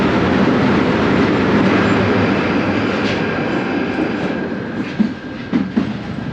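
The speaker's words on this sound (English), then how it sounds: "We're now overground, just pulling into Golders Green at 8 minutes past 9." A London Underground train running overground as it pulls into Golders Green station, with a loud, steady rumble of wheels and carriages that eases off near the end into a few clunks and rattles.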